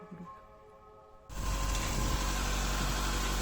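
A Toyota Altezza's 3S-GE engine catches partway through, breaking a quiet, faintly humming garage into a loud, steady idle with a broad rumble that holds to the end.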